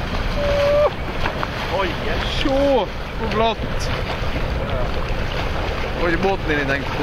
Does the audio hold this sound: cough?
no